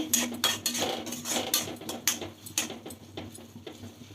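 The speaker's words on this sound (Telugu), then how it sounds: "ఇది కలుపుకోండి నాలుగు పక్కల కలుపుకొని ఉప్పు చింతపండు రసం కూడా నాలుగు పక్కలకి కలవాలి కదా" Amaranth leaf pickle is mixed with tamarind juice and salt, giving close, brisk clinks and scrapes of a metal spoon against a steel vessel in an uneven, rhythmic run, with no talking.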